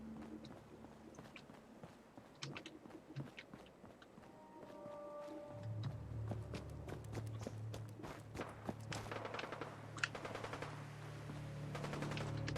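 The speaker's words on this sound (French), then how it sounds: "Ça tire là-bas." Gunfire in the video game Fallout 4, with bursts of rapid shots and scattered cracks mixed with footsteps and game ambience, steady at a middle distance throughout.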